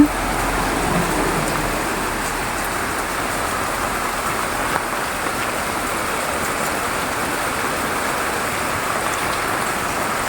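Steady rain falling, a dense continuous hiss of drops with no pauses, close by and fairly loud throughout.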